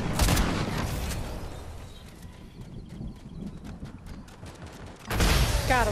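Rapid bursts of Fortnite gunfire crack through a busy battle royale fight, with a dense run of sharp shots in the middle and louder action at the start and end.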